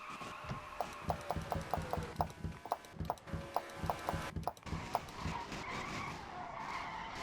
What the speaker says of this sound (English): Oh my gosh, Matt McIntyre's crashed